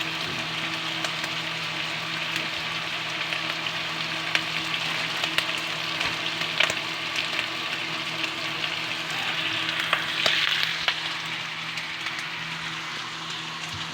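Pork for tokwa't baboy frying in a pan gives a continuous close sizzle with small pops and crackles throughout, rising slightly near the end, and no one speaks.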